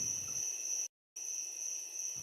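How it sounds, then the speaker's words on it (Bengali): Crickets chirping on a dark night, a steady high-pitched trill that cuts out briefly near the middle and then resumes over a quiet background. "অন্ধকার রাত, ঝিঝি পোকার ডাক, হালকা বাতাস।"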